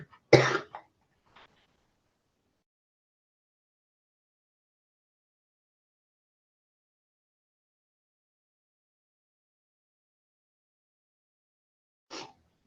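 A single sharp cough at the start, then a long silence broken by one brief faint cough near the end.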